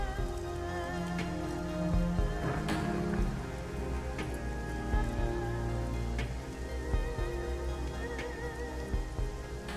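Steady rain pours in the video game Shadowrun: Hong Kong, a dense continuous patter with a few sharper drips, mixed under sustained tonal background music.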